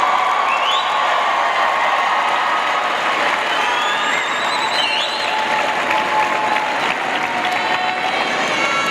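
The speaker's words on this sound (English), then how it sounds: "thunderous cheer." A graduation audience bursts into sustained applause and cheering, dense clapping with scattered whoops and whistles filling the hall throughout.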